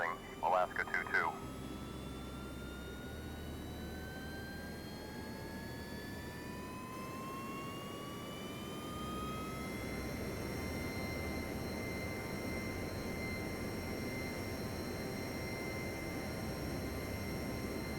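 A jet airliner takes off from runway 4 right at JFK in the Airport Control 27 game, its engines whining with rising pitches into a sustained roar after a brief burst of radio chatter at the start.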